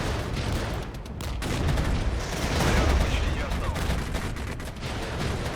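Artillery fire in the Regiments wartime strategy game: a continuous barrage of distant gunfire and booming shells rolling under a speaking voice, dense and sustained without clear gaps.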